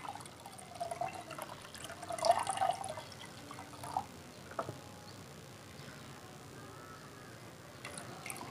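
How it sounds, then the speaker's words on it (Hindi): Hydrochloric acid poured into a solution of ceramic capacitors during palladium and silver recovery: faint, brief trickling and scattered drips, strongest in the first few seconds, then mostly quiet. "तो हम इसमें नमक का तेजाब यानी हाइड्रोक्लोरिक एसिड डाल देते हैं रिएक्शन के लिए।"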